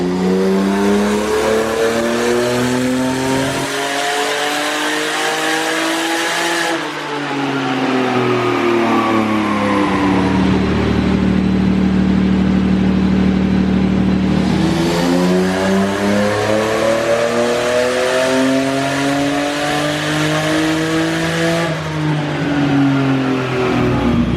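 BMW M52 inline-six fitted with a turbo, revved hard on a dyno in repeated long pulls that climb and fall, loud and close, with no talking.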